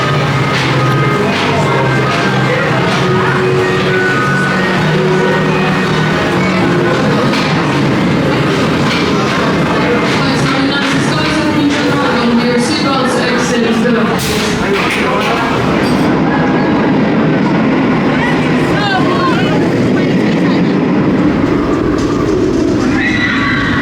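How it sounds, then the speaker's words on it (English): The Nemesis Inferno roller coaster at Thorpe Park roars and rattles along its track through a long, loud, continuous ride, with riders screaming and shouting over the noise. "Fantastic ride there on Nemesis Inferno."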